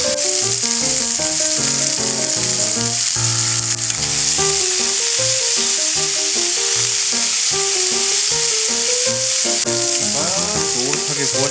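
Ginger sizzles in hot oil in a pan while cooking pork jjapaguri, a steady bright frying hiss running beneath loud background music throughout.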